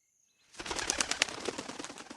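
Wings beating in flight, used as a sound effect for two large owls flying through the air to a branch, heard as a close, dense flurry of rapid flapping that starts suddenly after a brief silence and continues steadily.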